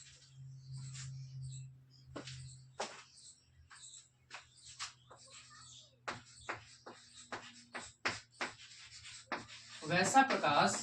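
Marker or chalk strokes scratch and squeak across a board in short, irregular bursts as a definition is written, quiet and close, with a voice speaking intermittently between the strokes.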